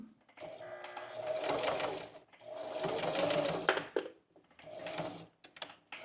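Sewing machine stitching fabric panels for a flared skirt with backstitching, running in three close bursts of steady mechanical whirring separated by brief pauses.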